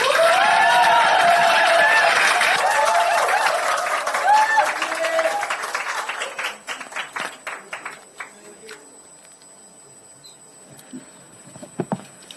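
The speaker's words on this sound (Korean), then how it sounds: "큰 박수로 맞아주시기 바랍니다" Loud crowd applause and cheering fill a packed campaign office for a 2023 Gangseo district mayoral candidate's event, welcoming a guest speaker, then thin out to scattered claps and quiet with a few late claps near the end.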